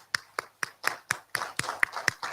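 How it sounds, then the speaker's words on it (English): Rhythmic hand clapping from a small audience at a national ICT competition grand final, about ten evenly spaced crisp claps, close and fairly loud, with no voices. "let's give cybersecurity a big round of applause"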